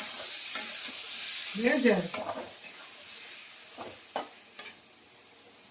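Chopped bottle gourd stirred and fried in hot oil in a pan for Bengali-style chicken kasa, a soft continuous sizzle with scraping stirs and clinks, while someone speaks briefly over it.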